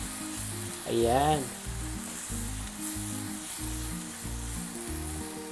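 Egg and tomatoes sizzle and simmer in a frying pan while being stirred, a steady close crackle with soft scraping throughout, and a voice speaks briefly near the start.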